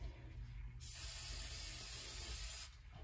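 Aqua Net hairspray hisses from a can in one steady burst of about two seconds, close and fairly loud, coating a glitter-filled pen being epoxied.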